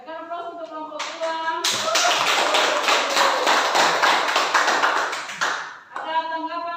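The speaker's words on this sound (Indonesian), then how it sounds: "Oke, bukan aplaus untuk kelompok 2." Students in a classroom applaud group 2 with a burst of several seconds of dense hand clapping, loud and close. Faint voices can be heard just before and after it.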